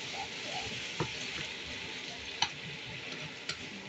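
Chicken with soy sauce, lemon and pepper sautés in a pan for pancit bihon, heard as a faint, even sizzle with a few soft spoon taps standing out.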